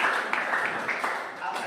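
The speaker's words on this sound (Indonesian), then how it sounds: "Ya, tepuk tangan untuk Januar." Classroom applause during a geometry lesson, a short burst of students clapping together, fairly close and steady with a few sharper claps standing out.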